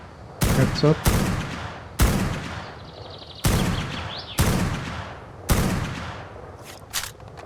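Gunfire in the video game ARK Survival Ascended: six or seven loud, sharp shots spaced about a second apart, each with a booming tail that fades quickly, and no talk over them.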